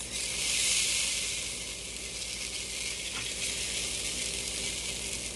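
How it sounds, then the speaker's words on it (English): Beef chuck short ribs sear in a hot pan with a steady, loud, bright sizzle close by, holding constant throughout with a slight swell near the start. "So basically you just want to kind of get a sear on this, guys, because the crock pot's gonna finish the cooking"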